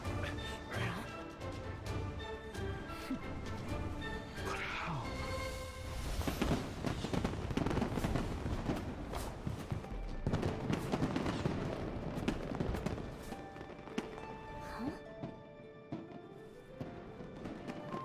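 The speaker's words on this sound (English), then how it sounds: "Fireworks show?" Fireworks bursting in the video game Genshin Impact, a dense, continuous barrage of crackling explosions and bangs layered over game music for the whole stretch, loud and busy without pause.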